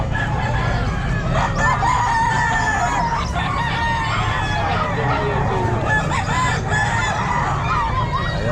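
A noisy crowd of chickens at a pet market clucks and crows continuously, with roosters calling over one another and some voices murmuring in the background.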